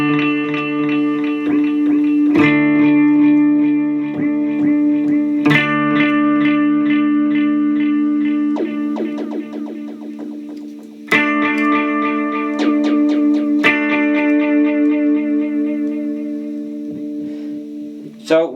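Electric guitar played through a Fender Mustang Micro headphone amp with the 2290 delay and reverb effect, picked notes and chords ringing out with repeating echoes and a lingering wash of reverb, loud and close throughout.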